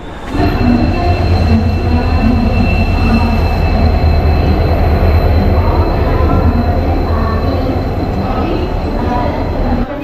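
A Tutari Express overnight passenger train rumbles along loudly and steadily, wheels grinding and squealing faintly on the rails, heard from inside a carriage with a constant low roar.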